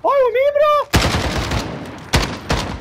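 Rapid gunfire bursts from a first-person shooter video game, close and loud, with a sharp volley followed by two more distinct shots; a brief tonal game sound precedes them.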